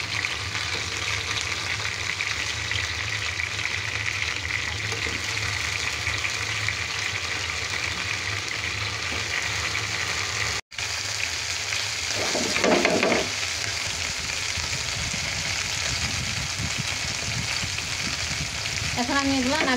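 Ingredients fry in a pan over a lowered flame, a loud, dense, steady sizzle broken once by a momentary cut, with brief stirring and shuffling sounds near the end.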